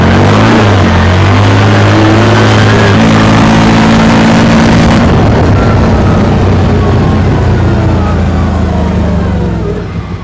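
A 2023 CFMoto ZForce 950 HO EX side-by-side with a 90-horsepower engine accelerates hard, a loud, close engine roar whose pitch rises steadily through the run, with a faint voice underneath.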